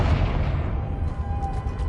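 A Confringo explosive spell cast in Hogwarts Legacy, a deep booming blast that fades into a rumbling decay, followed by a faint tonal shimmer and light clicks, with no speech.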